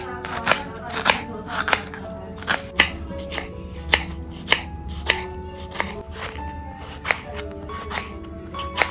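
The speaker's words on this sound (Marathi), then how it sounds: "आता या दोन्ही गोष्टींना कटिंग करून घेतोय." A knife chops onions and tomatoes on a cutting board, sharp distinct cuts landing about twice a second in an uneven rhythm, close and clear with no talking.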